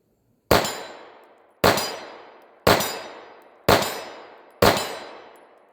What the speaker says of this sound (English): Five more rounds of Federal HST just to even out the round count.